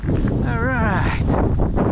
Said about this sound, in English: It's got a little bit of a side wind.